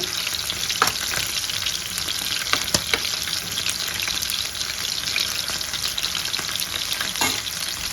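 Chicken 555 pieces shallow-frying in a little oil, a dense continuous crackling sizzle with occasional sharp pops and spatula clicks, steady and close throughout.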